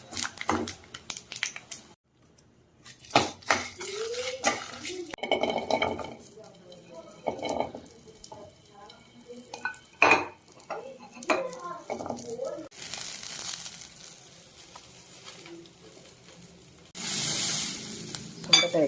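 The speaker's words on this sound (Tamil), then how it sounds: "சுண்டைக்காயை கொட்டி நல்லா வதக்கிக்கலாம்." Turkey berries sautéing in a pan as they are stirred, with scraping and clattering of a spoon against the pan and a soft sizzle that swells near the end.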